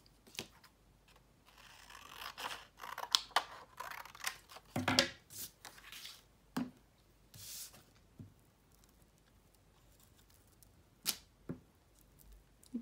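Scissors snip through card while a door hanger sign is trimmed, giving a handful of crisp close cuts with quiet rustling of the card between them.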